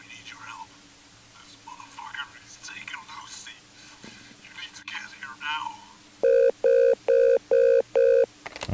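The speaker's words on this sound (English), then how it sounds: "Answer the phone." A telephone rings in a horror video game, five evenly spaced loud electronic bursts after a stretch of whispered speech over a low ambient hum.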